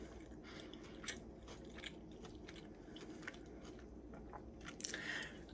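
Close, quiet biting and steady chewing of a turkey, cranberry and brie sandwich, with soft crunches and wet mouth sounds repeating over several seconds and a slightly louder bite near the end.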